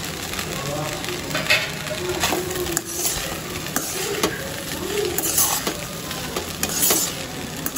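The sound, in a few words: fried potato pieces added and stirred in a frying pan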